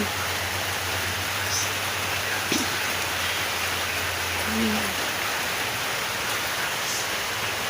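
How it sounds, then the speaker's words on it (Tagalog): Steady rain hisses continuously in the background, an even wash of noise with a low hum beneath it and no clear pauses. "Ulan-ulan dito."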